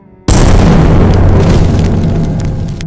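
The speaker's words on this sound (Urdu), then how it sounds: "اچانک اوپر سے ایک زوردار دھماکے کی آواز آئی" A sudden, loud explosion booms from above: one sharp blast that swells into a long, rumbling roar and stays heavy for several seconds with no voices.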